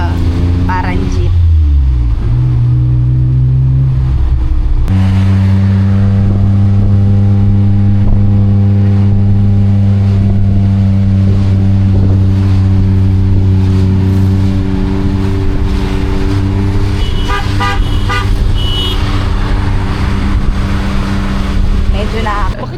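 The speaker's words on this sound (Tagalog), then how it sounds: "Nandito na kami sa Grab. Ito yung Grab nila dito. Parang jeep." A jeep-like Grab ride vehicle in Phuket runs its engine loudly throughout, revving and shifting with strong low drone, while people talk nearby and a brief horn-like tone sounds.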